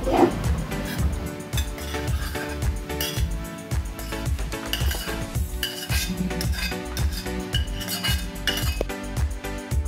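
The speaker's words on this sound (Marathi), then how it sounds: "आता आपण ह्याला एका भांड्यामध्ये, एका ताटामध्ये काढून घेऊन थंड करून घेऊया" Clinking of a utensil against a metal plate or pan as fried onion and tomato are scraped out and transferred for a paneer masala, a steady run of close, bright clatters throughout.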